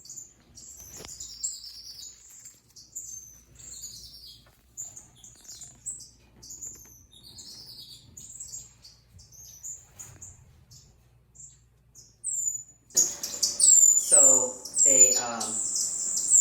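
Scattered high chirps and tweets from several small aviary birds, with a burst of louder, busier calls near the end over quiet background.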